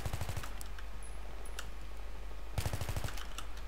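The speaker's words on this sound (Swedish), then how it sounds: "Någon sköt mot mig." Automatic gunfire in a 6v6 competitive shooter game, with two rapid bursts of clipped shots at the start and again near the end, loud and close over steady background noise.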